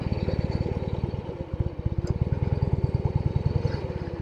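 A vintage Norton Atlas 750 four-speed motorcycle being ridden, its engine throbbing in a fast, steady, close pulse with a rough mechanical clatter on top, alone without voices.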